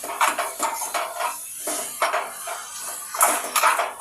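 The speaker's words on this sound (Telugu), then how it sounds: "బాగా మిక్స్ చేయండి" Brinjal being stirred in a pan with salt and turmeric, heard as a series of close metallic scrapes and clinks of a spoon against the pan, irregular and somewhat rhythmic, with no talking.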